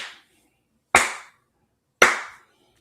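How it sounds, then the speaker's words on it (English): Three sharp, isolated hand claps spaced about a second apart ring out with a short decay after each, close and fairly loud against silence. "Slow clap."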